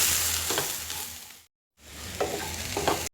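Broad beans (avarakkai) poriyal being stirred in a frying pan, a steady close sizzle with scraping stirs, broken by a brief silent gap midway.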